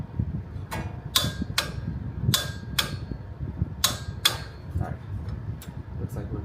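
A torque wrench snaps through a series of sharp clicks while tightening the tie rod on a 5th-gen Toyota 4Runner to 67 foot-pounds, with about ten irregular close clicks spread across a low mechanical background.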